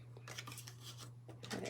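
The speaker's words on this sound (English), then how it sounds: "I'm going to cut my banner out" Scissors snip out a paper banner in a series of quick, quiet cuts over a steady low hum.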